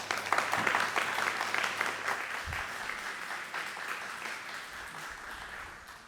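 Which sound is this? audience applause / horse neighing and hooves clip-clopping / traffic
audience applause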